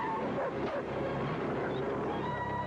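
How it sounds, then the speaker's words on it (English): A dog barking from a television police procedural, heard as short yips and whimpery barks under a constant noisy background, moderately faint and somewhat muffled. "The dog is barking at the evidence box"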